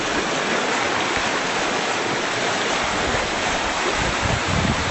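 A creek flowing where it begins to widen and cut a new path, giving a steady, dense rush of water noise that runs unbroken and fairly loud throughout.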